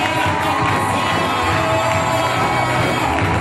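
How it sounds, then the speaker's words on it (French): A church congregation cheers and shouts in acclamation at a welcome service for the president of COMNAT-ALPC, a loud, steady wall of crowd voices and whoops from many people at once. "On acclame le Seigneur Jésus"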